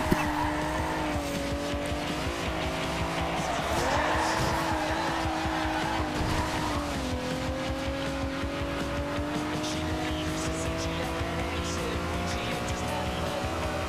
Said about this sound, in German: Ich bin es auch gar nicht gewöhnt, einen Lamborghini mit Heckantrieb zu fahren.